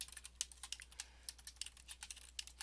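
Fingers type JavaScript code on a computer keyboard, a close, light patter of key clicks in uneven quick runs with no voices.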